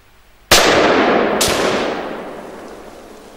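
Two loud, sharp gunshots about a second apart, fired outdoors while testing a Vector Optics Scrapper 1x25 enclosed red dot sight, each crack ringing out with a long echoing decay.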